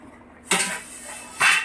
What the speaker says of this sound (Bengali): দেখুন এবার আমি ঢাকাটা খুলে দিচ্ছি।